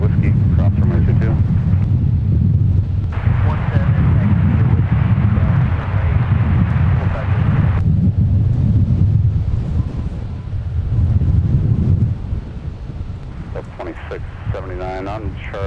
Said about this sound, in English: that wind really wants to establish its presence now. That's probably the strongest gust I've felt all day